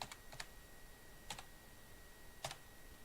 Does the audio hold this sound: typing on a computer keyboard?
yes